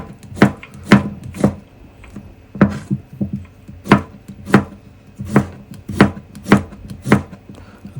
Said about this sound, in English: This is the way you put the thumbs close to your knife, but make sure you're not going to chop your fingers